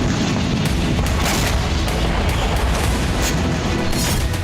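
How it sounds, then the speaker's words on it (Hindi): Missile and drone strikes hit the Russian naval docks in Sevastopol Bay, a dense, continuous roar of heavy booms and rapid blasts rolling together with no break or quiet gap. "बेहद ही प्रचंड अंदाज में यूक्रेन ने सेवास्तोपोल बे को मिसाइलों और ड्रोन से थर्राया।"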